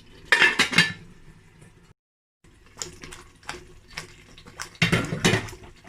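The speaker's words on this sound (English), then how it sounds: "I'll go and wash my rice" Rice grains and water slosh and rattle inside a metal pot in several bursts of scraping and clinking, close up, with a short pause midway, as the rice is washed.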